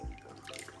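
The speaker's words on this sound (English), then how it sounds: "So what you do is squeeze all the water out." Water drips quietly from a squeezed kava strainer, a few soft, close droplets falling after one brief, heavier splash at the start.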